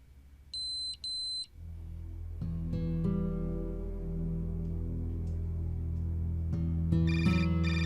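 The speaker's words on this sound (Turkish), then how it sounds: "Telefonun çalıyor." A phone rings with two short electronic beeping bursts near the start, then a sustained melodic ringtone plays loudly and continuously, changing notes near the end, with no talking over it.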